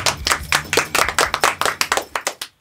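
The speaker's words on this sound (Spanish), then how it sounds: "Un fuerte aplauso para él." Audience clapping for a live band session, a dense burst of hand claps that rises quickly, stays busy and steady, then tapers off and stops after a couple of seconds.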